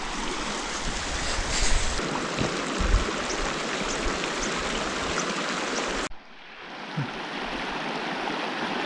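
Steady rushing water from a mountain creek in Colorado's San Juan Mountains flows nearby with a dense, constant wash, then the sound abruptly shifts to a quieter, thinner flow.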